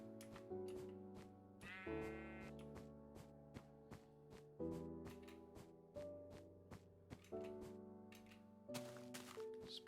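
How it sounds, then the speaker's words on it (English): Grey sheep bleating in Minecraft, a few short nasal bleats over steady game music with soft taps and thunks, no talking. "Grey sheep."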